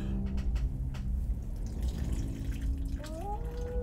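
Water drips and trickles steadily from a pumpkin as its guts are scooped out, close and wet-sounding over a low background rumble, with a rising squeaky tone near the end.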